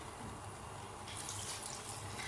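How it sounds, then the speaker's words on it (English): Hot water pouring into a pot of lentils, a soft, steady watery rush that grows brighter and fuller partway through. "So then add hot water that will be enough for the lentils to get done."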